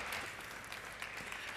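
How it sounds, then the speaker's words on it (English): Audience applause fills a conference hall at an energy conference in Namibia, steady clapping from a crowd at moderate distance for a short stretch. "Madame Selma Shimutwikeni deserves a much bigger round of applause."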